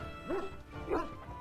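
A dog in the video game Dragon Age: Origins gives two short barks about half a second apart, fairly close and clear against a quiet background.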